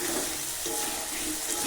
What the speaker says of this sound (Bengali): ভেজে নিতে হবে যতক্ষণ না লাল হচ্ছে।